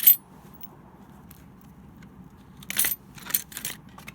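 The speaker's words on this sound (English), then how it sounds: "all kinds of old Mitsubishi keys in here." A bunch of old Mitsubishi car keys jangling, a brief metallic clink at the start followed by a few bright rattling shakes near the end, close and fairly quiet.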